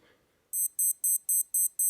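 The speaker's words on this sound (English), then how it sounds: "and then the alarm will go off." A Timex Ironman digital watch alarm beeps in a steady series of short, high-pitched bursts, five full beeps and the start of a sixth, after a brief quiet moment.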